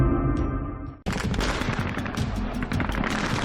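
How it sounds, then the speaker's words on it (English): A sudden burst of heavy gunfire breaks out after a steady rumble of a train, with rapid overlapping shots continuing loudly and densely during an attack on the train in northern Nigeria. "Gunfire erupted as the terrorists attacked the train."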